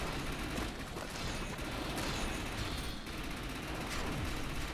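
Rapid bursts of bio SMG fire in a multiplayer video game during a zombie fight form a dense, continuous rattle of shots that stays loud and steady across the whole stretch.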